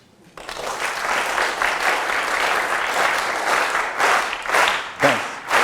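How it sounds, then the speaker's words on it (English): An audience in a demonstration lesson breaks into sustained group clapping, a thick wash of close applause that starts abruptly and holds for about five seconds, swelling into a few louder bursts near the end. "What you have to do is you have to clap in unison."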